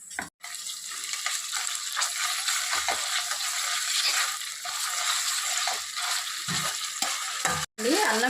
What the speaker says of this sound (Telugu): అల్లం పేస్ట్ కూడా చక్కగా వేగిపోయింది.